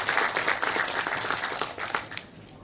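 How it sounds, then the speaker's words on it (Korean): A lecture audience claps warmly for a speaker at the close of a history talk, a lively burst of distinct hand claps that thins and fades out near the end. "이창구 박사님한테 다시 한번 뜨거운 박수 부탁드리겠습니다"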